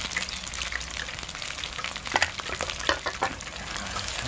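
Battered kabocha squash deep-frying in hot oil, a steady bright crackling sizzle with bursts of louder popping partway through, close by and with no talk.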